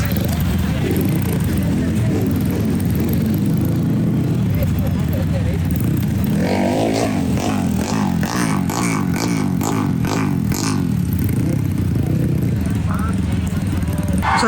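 Supercross motorcycles rev at the start of a first-round national championship race, a buzzing engine roar that grows busier in the second half, heard under someone talking.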